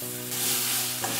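Taro stolons sizzle loudly in a pan just after tamarind water is added, a bright steady hiss over a low humming tone with a brief stir near the end.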